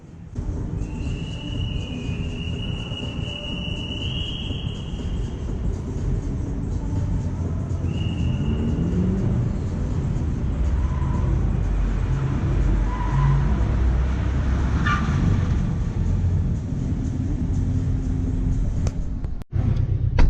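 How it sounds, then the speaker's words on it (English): A Porsche 911 engine runs steadily throughout on a slalom course, droning with shifting revs and faint tire noise, heard from inside the car with no talking. "now we will go for the slalom course in the 911"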